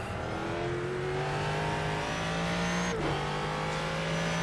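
A Ford GT3 race car in iRacing on the Daytona circuit, engine droning steadily at high revs with gear-change dips and rising pitch, loud and continuous, no talk.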